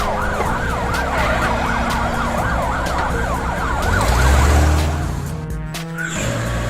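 An ambulance siren whoops in rapid, repeating up-and-down sweeps over a rumbling vehicle, close and loud, then gives way to a brief skid-like screech and a deep whoosh near the end.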